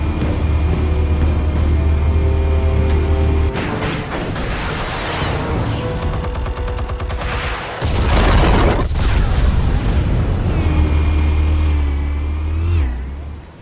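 Explosives detonate in Batman: The Telltale Series, a loud booming blast with rumbling low end and crackling debris over a sustained din, followed by a second heavy burst mid-clip before a humming drone returns.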